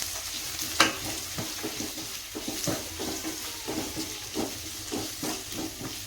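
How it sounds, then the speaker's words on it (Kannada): Chopped onions frying in a pan make a soft, continuous sizzle, broken by regular scraping taps from stirring, close by with no talking. "ಇದು ಈರುಳ್ಳಿ ಚೆನ್ನಾಗಿ ಫ್ರೈ ಆಗಲಿ."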